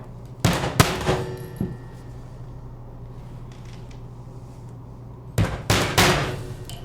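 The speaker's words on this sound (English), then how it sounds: "And just go one nail in between each of the other ones down." A hammer drives nails to tack a beaver pelt onto a board: a few sharp, loud knocks come close together at the start, then quiet room tone, then another quick cluster of blows.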